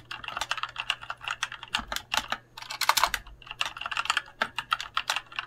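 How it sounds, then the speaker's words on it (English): Rapid, steady typing on a Drevo mechanical keyboard with red switches, with close, fairly soft clacks in quick bursts and brief pauses and no voices. "it's a red switch. For a mechanical keyboard, it's still relatively quiet."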